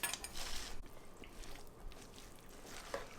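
A spoon stirs homemade potato salad with mayonnaise in a bowl, giving soft, wet squishes with occasional light clinks against the dish. It is close and quiet.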